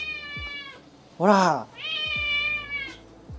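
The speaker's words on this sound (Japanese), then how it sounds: "みやみや泣いてるよ" A cat meows once in a loud, drawn-out cry, close to the mic, while a person talks before and after it in a quiet indoor room.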